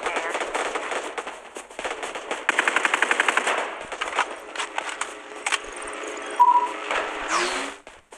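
Rapid automatic gunfire from the Android shooter game Omega Legends rattles in bursts, with a sustained machine-gun stretch midway and scattered single shots, mixed with game effects.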